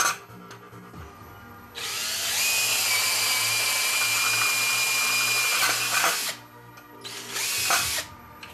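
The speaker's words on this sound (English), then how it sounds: "And I'm gonna drill the holes." A DeWalt cordless drill whirs at high speed for about four seconds, then stops; a second shorter burst follows, close and loud, with quieter handling noise between.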